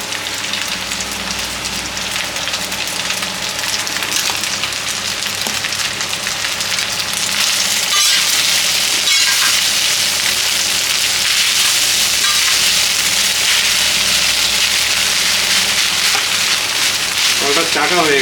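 Boiled rice frying on a hot tawa for mixed fried rice, a loud, dense sizzle and crackle that swells partway through and keeps going steadily to the end.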